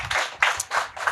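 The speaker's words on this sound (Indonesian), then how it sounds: "Ya kita tepuk tangan dulu buat yang datang." Four sharp hand claps land in a quick, even rhythm at a talk-show gathering, close and distinct.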